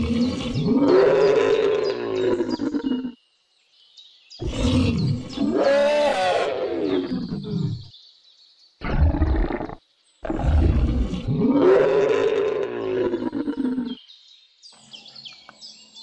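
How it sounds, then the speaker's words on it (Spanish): A wild animal roars from dense vegetation in loud, drawn-out bursts separated by short pauses, with faint bird chirps between them and no talking. "se oyó un rugido proveniente de la espesa vegetación"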